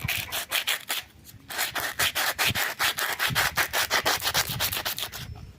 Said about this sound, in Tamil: இந்த எமர்சீட்டை வச்சு இப்படி தேய்ச்சிக்கணும் நல்லா